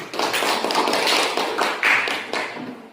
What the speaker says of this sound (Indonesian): Tepuk tangan kepada kelompok 1.